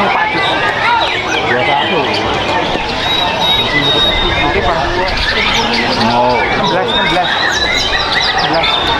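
Songbirds at the Piala Raja 2024 bird song contest in Indonesia sing in dense, overlapping chirps and trills, heard over constant crowd chatter and nearby talking.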